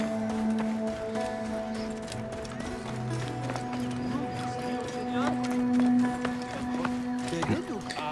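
Steady clip-clopping horse hooves in Assassin's Creed Origins, running under a busy mix of music-like tones and effects, with a voice talking over it.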